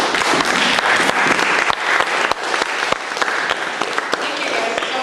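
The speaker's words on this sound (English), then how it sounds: "If you can give the panel an applause." An audience applauds a panel at the close of a Q&A session on environmental issues, sustained dense clapping filling the room, loud and even throughout with a few sharper individual claps.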